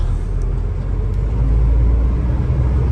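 A Hino Victor 500 truck with a 260 horsepower engine, 2019 model, creeps along in low gear across a parking yard, giving a close, deep, steady rumble with no talking.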